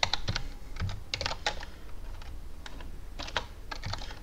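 Computer keyboard keys clatter in quick irregular bursts of clicks, including an Enter press, close and fairly quiet with no talking.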